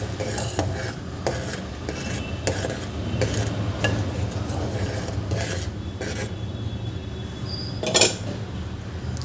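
A spoon scraping and stirring ragi soup with salt and pepper in a metal pot, steady close rasping strokes with light clinks and one sharper knock near the end.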